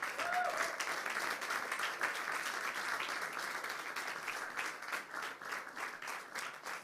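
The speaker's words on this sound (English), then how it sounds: "And I want all the students a resounding applause." Sustained applause from students for teachers standing at a school debate competition. Steady, dense clapping fills the room at moderate loudness, holding evenly throughout and tapering slightly into more separate claps near the end.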